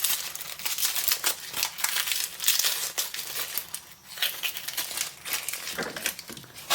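The outer layer being pulled off a vegetable close up, a run of dry crinkling and crackling tears that comes in uneven bursts with no voices.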